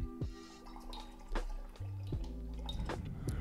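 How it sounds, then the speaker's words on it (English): Watercolor paintbrush rinsed in a water cup, with short drips, swishes and sloshing splashes up close, steady and continuous over a few seconds. "I'm rinsing my brush off completely"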